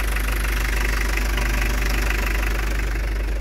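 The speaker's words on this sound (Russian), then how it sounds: "Заводится нормально, но поддымливает, видать, свечи накала." A 1991 Mitsubishi Delica Star Wagon P35W diesel engine idles right after a cold start, a loud, steady knocking rumble with constant vibration and no speech.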